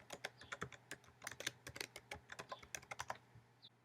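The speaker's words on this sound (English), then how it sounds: "typing Rollup Helper in the search bar" Fingers type quickly on a computer keyboard, a close, rapid run of light clicking keystrokes entering a search term, with a short pause near the end.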